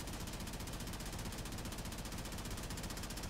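Kuva Karak rifle from Warframe firing nonstop on full auto, a dense and even stream of rapid shots that holds steady and fairly quiet throughout.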